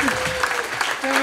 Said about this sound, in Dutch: Dus geef hem ook een hartelijk applaus.